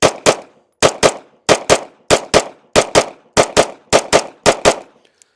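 Sixteen loud, sharp gunshots from a heavy compensated pistol with a light trigger, fired in quick pairs at a steady rhythm with brief pauses between each double-tap; no talking.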